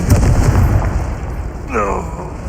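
A Confringo blasting spell explodes in Hogwarts Legacy, a loud, rumbling boom right at the start that fades into a low roar as a voice talks over it.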